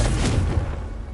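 The Confringo blasting spell in Hogwarts Legacy on PS5 goes off as a single loud, close boom with a heavy low rumble that decays over about a second.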